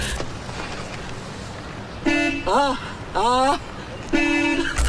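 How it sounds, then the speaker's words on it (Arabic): Horn of a Keeway electric motorcycle, several loud electric beeps in short bursts, the first two steady and the next two warbling, standing out over faint outdoor background noise. "الكلاكس بتاعها تحفه، قوي جدا لتنبيه السيارات."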